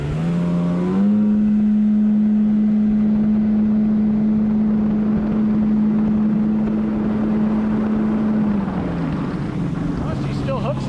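An old Yamaha Waveblaster 2 two-stroke jet ski screams at top speed, a loud steady high-pitched drone held for several seconds before it drops off, heard up close from the rider's position.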